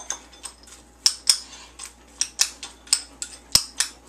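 A spoon clinks and scrapes against a bowl while wet dog food is stirred into kibble, making a string of sharp, close metallic taps at an irregular pace.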